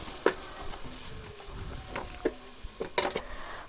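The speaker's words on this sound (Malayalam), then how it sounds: "അപ്പോൾ പൊടീൻ്റെ പച്ചമണം മാറുന്നത് വരെ ഒന്ന് മിക്സ് ചെയ്തെടുക്കാം" Spice powders for biryani frying in a pan while being stirred, giving a steady sizzle broken by several loud spatula scrapes and clinks against the metal, no voices.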